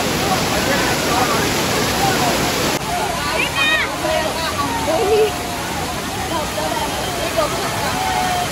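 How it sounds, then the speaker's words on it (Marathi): A large waterfall at Amboli in the Konkan roars as a loud, continuous hiss at first, then settles into a softer rushing wash while people talk and call out nearby. "केवढा मोठा धबधबा आहे।"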